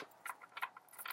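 Oracle cards being shuffled by hand at a tarot reading table, giving faint, quick papery riffles and flicks in a few short bursts close by, in an otherwise quiet room.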